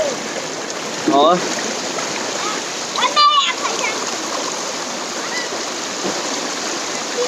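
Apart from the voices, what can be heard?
jungle stream water splashing while bathing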